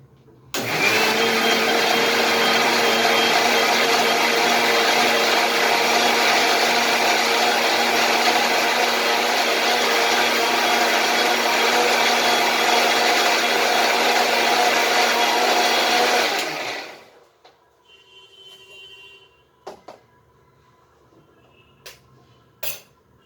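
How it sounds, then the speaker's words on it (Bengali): A mixer grinder whirs loudly and steadily for about sixteen seconds as it blends a sweet lime (musambi) ice cream mixture, then cuts off, leaving quiet with a few faint clicks and handling sounds. "সব কিছু মিশ্রণটাকে নিয়ে মিক্সিতে আর একবার গুলিয়ে দিচ্ছি"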